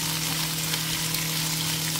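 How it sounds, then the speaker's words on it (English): Carrots and broccoli, freshly added to other vegetables in a pan, fry with a loud, dense, continuous sizzle that holds steady from start to finish. "I'm going to add in the carrots and the broccoli. And let those cook down a little bit in with the rest of the vegetables"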